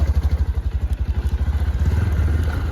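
A motorcycle engine chugs close by on a village road in Nepal, in a steady, rapid thumping rhythm, growing slightly rougher and louder toward the end.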